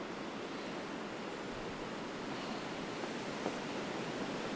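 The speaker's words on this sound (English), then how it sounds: "It is windy." Wind blows through a snowstorm as a steady, dense rushing roar that holds even and unbroken throughout, with no voices.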